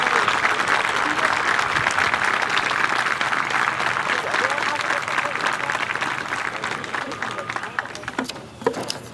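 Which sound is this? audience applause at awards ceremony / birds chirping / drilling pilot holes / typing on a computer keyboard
audience applause at awards ceremony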